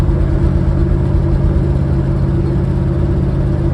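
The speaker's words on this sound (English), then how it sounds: "Definitely a ticking noise." A 1978 Ford Bronco V8 running loud and close with a steady low engine drone, a faint ticking and occasional popping mixed into the rumble, and no voices.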